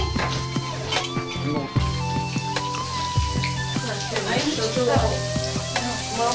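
Food sizzles and fries in a pan with a steady crackling hiss throughout, while people talk over it nearby.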